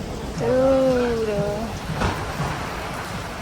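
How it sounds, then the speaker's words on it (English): Rain falls as a steady hiss throughout, with a voice briefly sounding over it near the start. "But I've been rained on."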